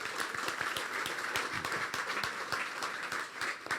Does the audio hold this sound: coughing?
no